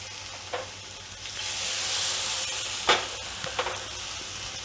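Asafoetida and garlic hit hot oil already crackling with mustard seeds, giving a steady broad sizzle with a few sharper pops and spatters near the end, close up and alone.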